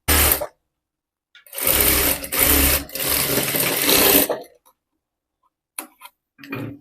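Sewing machine running in bursts while double-stitching a blouse strip, two long steady runs of stitching after a brief start, separated by pauses and followed by a few short taps near the end.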